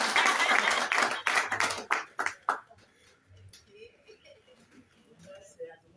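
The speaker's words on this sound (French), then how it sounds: "il faut applaudir." A short burst of audience clapping at a stand-up event on African women dies away after about two seconds, leaving quieter room noise and a few scattered claps.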